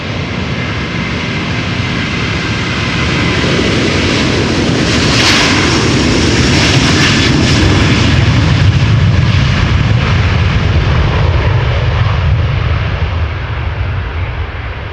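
Delta Air Lines Airbus A330-300 jet airliner, about 19 years old, departing Amsterdam Schiphol under crosswind, its engines a loud, sustained roar that swells and holds across the whole span, with no voices.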